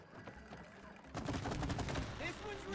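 Gunfire in a video game breaks out after a quiet first second, becoming a dense, rapid burst of shots that continues to the end beneath faint game sounds.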